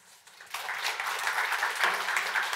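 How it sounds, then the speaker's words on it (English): A conference audience at a talk on the Raiden payment channel network for Ethereum gives a round of applause. Steady, full clapping swells in after a brief quiet moment and carries on evenly, moderately loud, with no voices. "I would like to ask you to give a round of applause to these guys"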